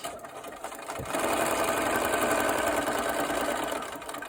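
A sewing machine stitches a paper-pieced sailboat quilt block in a steady, fast mechanical whir that starts after a second and runs continuously at moderate volume, with no speech.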